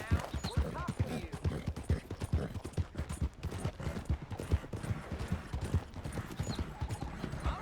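Steady clip-clop of horse hooves at a walking or trotting pace in Red Dead Redemption 2, rhythmic and moderately close, with voices talking over it.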